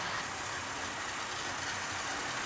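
Two Stanier LMS steam locomotives, a Princess ahead of a Black 5 hauling a freight train, roll past as a steady, dense rushing hiss and rumble, close and continuous for a few seconds, with no talk.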